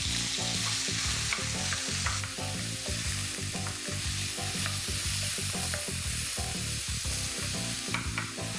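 Mutton keema fries in spiced oil, a loud, dense and continuous sizzle with rhythmic scraping and stirring strokes throughout, close up and without speech.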